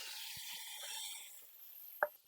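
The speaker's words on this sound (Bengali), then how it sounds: "এই তেলের মধ্যে এই পটলটা দিয়ে ভেজে নেব" Pieces of pointed gourd fry in hot oil, giving a brief hiss that fades out, followed by a sharp clink near the end.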